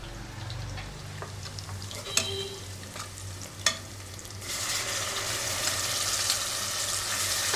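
Spices stirred and sizzling in a frying pan in a home kitchen, a steady close frying hiss that swells louder partway through, with two sharp utensil knocks against the pan.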